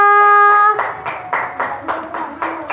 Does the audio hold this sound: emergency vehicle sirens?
no